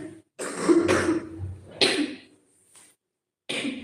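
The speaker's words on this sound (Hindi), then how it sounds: "आ गई खांसी।" Someone coughs and clears their throat in a few harsh, close bursts separated by short silences, fairly quiet overall.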